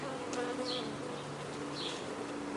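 Honey bees hum steadily around an open hive body during an inspection, a continuous droning buzz with a few brief louder passes of individual bees close by.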